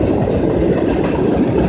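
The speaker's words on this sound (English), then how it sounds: "This train's been passing for about at least 3 minutes." Long BNSF manifest freight train rolling past close by, a loud continuous rumble and rattle of railcars with no break and no talking.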